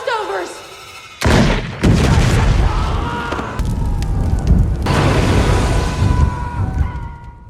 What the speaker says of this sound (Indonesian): Jessica yang menembak balon yang berisi sebuah gas di dalamnya, membuat balon tersebut meledak di hadapan si Sheriff